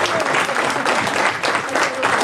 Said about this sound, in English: So please give my loyal team a great round of applause.